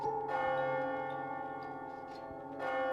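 A clock bell in AI: nirvanA Initiative tolls for midnight, two resonant strikes ringing out with long sustained hum between them, clear and alone.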